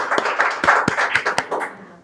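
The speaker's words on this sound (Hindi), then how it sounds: "एक बार प्रभांशी के लिए तालियां, जो यहाँ तक पहुंची।" A small audience on a quiz show claps in short bursts, with a few sharp, close claps standing out over a quicker patter that tapers off near the end.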